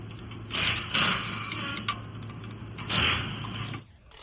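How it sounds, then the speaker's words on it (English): A ratcheting socket wrench with a 10mm socket loosens a 21mm nut on the strut assembly of a 2022 RAM 1500 pickup, giving close, quick bursts of mechanical clicking with brief pauses between them. "So we'd take a 10mm socket, put it on the bolt's edge here, and a 21 on there, and just loosen it that way."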